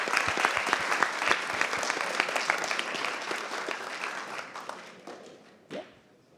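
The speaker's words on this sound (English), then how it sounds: "a big round of applause for Epicenter." Crowd applause for the winning team at the IC Hack 23 hackathon closing ceremony, dense steady clapping from a large audience that thins out toward the end, with one last brief burst of claps.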